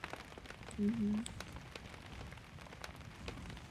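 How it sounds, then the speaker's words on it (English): Steady rain at Yellowstone National Park patters and hisses across a surface, a soft continuous wash with scattered drops, fairly quiet and close. "this seems like the rain's slowing up"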